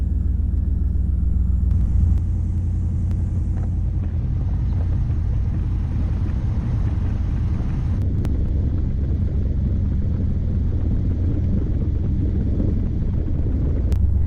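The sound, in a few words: Pontiac Trans Am car driving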